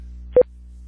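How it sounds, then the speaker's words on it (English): A Benson audiometer sends a test tone to the left headphone as a short, clear burst of two quick pulses that stands out over a steady low electrical hum. "checking the distortion in the left headphone"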